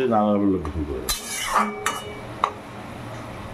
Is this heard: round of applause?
no